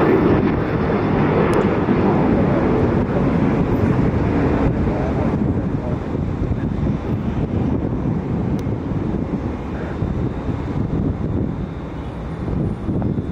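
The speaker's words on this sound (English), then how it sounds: "It's the JetBlue Boston Red Sox A320." A JetBlue Airbus A320 in the Boston Red Sox special livery passes while being watched at Fort Lauderdale, a broad continuous jet roar mixed with wind buffeting on the microphone, holding fairly steady throughout.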